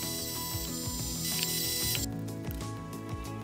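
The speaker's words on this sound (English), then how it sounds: "Once the holes were drilled, I went round again with a tap." A hand tap cutting M5 threads into freshly drilled holes in a metal part for a lathe tailstock die holder, heard as close, steady ratcheting clicks and scraping with a continuous mechanical hum beneath.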